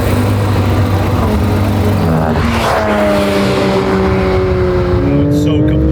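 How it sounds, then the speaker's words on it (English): A Porsche 911 GT3 RS engine idles close by with a loud, steady, slightly rough drone, the pitch shifting slightly partway through, while voices talk over it. "Like the 911 idle sometimes is a little tractory."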